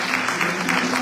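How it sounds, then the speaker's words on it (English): An audience applauds a speaker at an event in Liberia, a short, dense patter of many hands clapping with no voices over it. "If you want to clap for me, let's begin"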